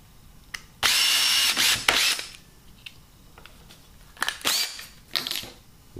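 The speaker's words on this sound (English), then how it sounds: "I'm just going to use a little drill bit to start it." A small drill bit boring a hole through the centre of a plastic cap for a mini spud blaster, heard as two loud, close bursts of high whining drilling, then shorter intermittent buzzes and clicks.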